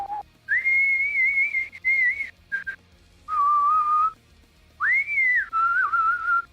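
A human voice whistles in imitation of a spooky theremin, with wavering, sliding pitched tones in several separate phrases, some held and swooping, close and clear with short pauses between.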